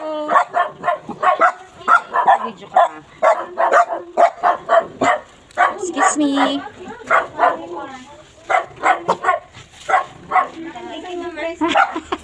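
A dog barks repeatedly in quick, close bursts, interspersed with yips, under and between a person's talking and coaxing voice.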